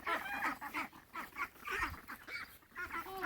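Domestic ducks quack in short, repeated nasal calls, several birds overlapping close by at modest volume, with no talk.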